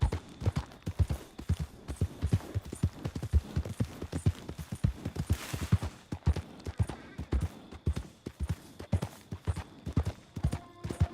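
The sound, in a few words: horse hooves clip-clopping in video game Red Dead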